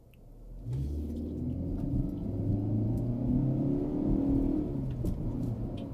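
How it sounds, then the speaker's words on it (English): A 2024 Nissan Altima accelerating hard from a standstill in a 0 to 60 run, its engine rumble rising and holding steady as speed builds, heard from inside the cabin with no talking. "this will be a little 0 to 60 test"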